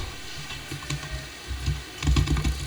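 Typing code on a computer keyboard during a JavaScript class, with a steady patter of close key clicks that picks up into a denser, louder burst near the end.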